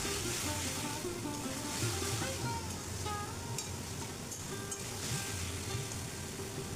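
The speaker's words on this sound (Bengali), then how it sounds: "পুরো প্রক্রিয়াটাকে বেশ ভালোভাবে আমি কষাতে থাকব।" Masala for a nutmeg-touched egg kosha curry sizzles steadily in a hot pan, a continuous crackling fry with faint scraping ticks, nothing else over it.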